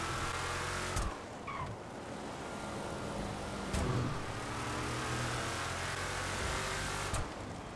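A car in the video game GTA 5 accelerates with a continuous loud engine roar, and a few brief gear-shift dips break up the sustained drone.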